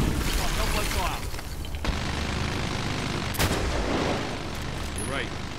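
Gunfire and explosions in the military shooter Medal of Honor Warfighter, with dense rattling bursts, booming impacts and battlefield noise continuing throughout, loud and close, while voices call out over the combat.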